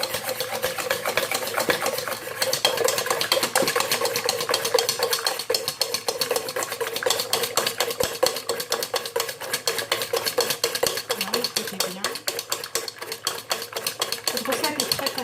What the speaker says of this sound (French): Je vais bien fouetter le sucre vanillé